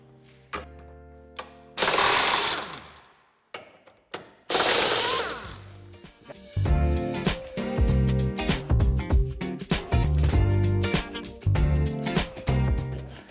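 Screws being backed out of the rear of a Citroën C4 III while a tow hitch is fitted: two loud bursts of a power screwdriver whirring, then a long run of ratcheting, clicking and rattling tool work up close.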